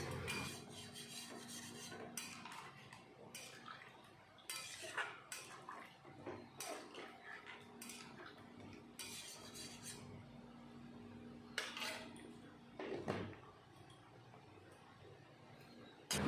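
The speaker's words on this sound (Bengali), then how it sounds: "নারকেলের দুধের সাথে সব মশলাটা ভালো করে মিশিয়ে দিচ্ছি" A spoon scraping and clinking against a metal pot as spices are stirred into coconut milk for a duck egg curry, with irregular soft scrapes and taps close by, no talking.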